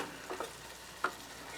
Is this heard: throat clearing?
no